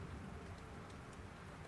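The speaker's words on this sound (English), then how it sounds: "The sound of the rain outside" Rain falls outside an old stone cottage, a soft, even, continuous patter and hiss heard at a low level with no other sounds.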